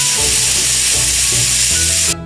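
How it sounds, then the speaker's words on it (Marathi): Spicy chole masala bubbling and sizzling in a pan, a loud steady hiss with faint low pops, cut off abruptly near the end. "आपली भाजी मस्त उकळली आहे."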